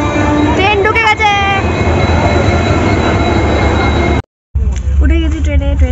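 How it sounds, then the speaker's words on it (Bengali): A train at Howrah station rumbles loudly and continuously with squealing wheel and brake tones, cutting out briefly before the rolling noise returns. "উঠে গেছি ট্রেনে, ট্রেন ছেড়েও দিয়েছে"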